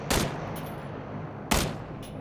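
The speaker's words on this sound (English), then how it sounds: "Oh, oh mad gunfire!" Video game gunfire in two loud, sharp bursts about a second and a half apart, each a quick rattling volley with a brief echoing tail.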